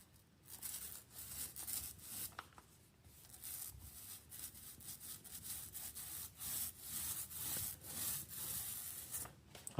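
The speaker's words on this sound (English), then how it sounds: "And now I'm going to go over it with some white paint" A brush spreads white paint over old fireplace tile that has been coated with joint compound, giving continuous close scratchy strokes in an uneven back-and-forth rhythm, fairly quiet, with no voices.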